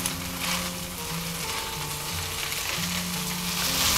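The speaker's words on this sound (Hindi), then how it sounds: "अब इसमें हम प्याज का हरा वाला हिस्सा डालेंगे और मिक्स करेंगे।" Veg chowmein noodles with spring onion greens are tossed and stirred in a hot pan. The sizzle is constant and close, with soft scraping and occasional metallic clicks from the utensil.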